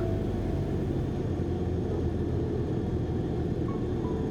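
Steady low engine drone with a broad rumbling hum, continuous and even throughout, from a flight simulator game aircraft engine at idle.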